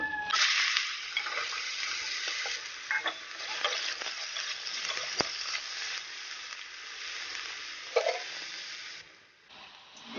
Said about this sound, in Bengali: আমি আলু আর বেগুনগুলো ভেজে নেব।